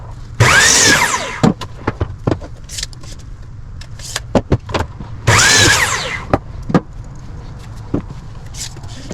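A power saw cuts deck boards to 36-inch lengths in two loud bursts of about a second each, separated by clattering knocks and handling of the wood.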